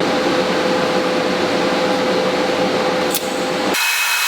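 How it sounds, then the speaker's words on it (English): Welding bungs onto a motorcycle sissy bar and fender mount for a Honda Grom, a loud steady electric hiss and buzz with a faint hum, cutting off abruptly near the end. "I'm going to go ahead and weld these on now."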